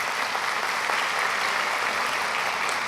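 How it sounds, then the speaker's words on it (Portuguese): Steady, dense applause from a seated audience at the opening ceremony of an inclusive education seminar, sustained evenly throughout without pauses, greeting sign language interpreters. "Desde já pedimos uma salva de palmas às nossas intérpretes de Libras."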